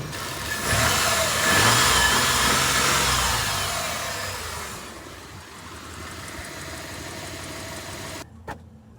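A 4x4 engine, compared to a Delica, running and revving: a loud swell of engine noise in the first seconds that eases back to a steady idle, then cuts off abruptly near the end.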